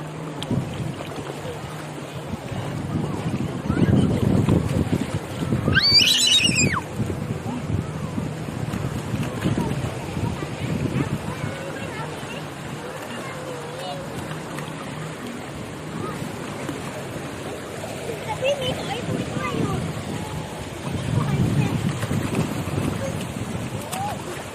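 Strong ocean waves wash onto a beach in repeated rolling surges under gusting wind, with someone talking and a child's high cry rising briefly over the surf.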